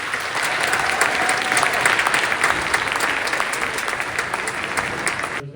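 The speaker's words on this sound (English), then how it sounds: "Let's give jazz band another round of applause." Audience applause for a school jazz band at a spring concert, a steady dense clapping that holds at full strength for about five seconds before stopping abruptly, with no voices over it.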